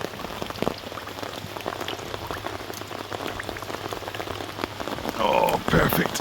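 Steady rain pattering on an ash shelter at a minimal camp in the Scottish outdoors, a dense continuous patter of drops close by, swelling slightly louder toward the end.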